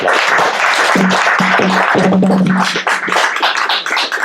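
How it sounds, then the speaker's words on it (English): A lecture-hall audience applauds its host at the close of a talk on Sudan, a steady dense clapping that fills the whole stretch at close range. "let's give our host, our guest here, a round of"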